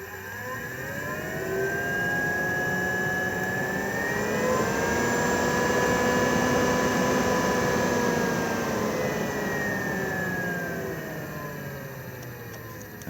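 A roof vent fan runs steadily inside a Coachman Lazer Xcel 875 caravan, a loud close whirring drone whose pitch rises and falls slightly as the speed changes, with no talking.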